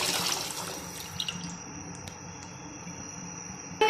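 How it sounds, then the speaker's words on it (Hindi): Milk poured into a cooking pan for custard, a soft, steady liquid splash and hiss that fades within the first seconds, followed by quiet kitchen ambience and a small clatter at the end, with no talk. "यहाँ पे हमने पैन ले लिया, इसके अंदर हम दूध ऐड कर लेंगे।"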